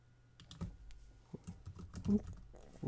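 Keys clatter in uneven bursts as a name is typed on a computer keyboard, close and fairly quiet, with faint low voice-like murmurs between the strokes.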